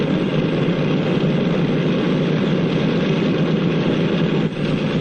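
A 1940s airliner's propeller engines drone steadily as the plane taxis toward the runway at an airport, a loud continuous low rumble with no voices.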